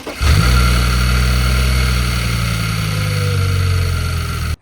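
Audi A6 fitted with a swapped RS6 V10 engine, running steady with a deep, loud exhaust drone and a slight rev at the start, close by with no talking.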